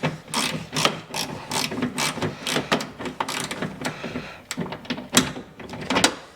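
A flexible ratchet wrench works a 10mm fastener on the door panel of a 2024 Toyota Camry, giving a steady run of sharp, close metallic clicks throughout with brief pauses.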